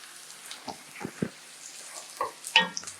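Onions fry in a pan with tomatoes, garlic and ginger and are stirred now and then. Faint sizzling is broken by a few soft spoon scrapes and taps, close and quiet.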